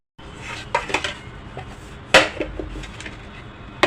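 An eggless semolina chocolate cake is turned out of its tin onto a plate, giving a few sharp clanks and knocks of metal and crockery over a quiet kitchen background.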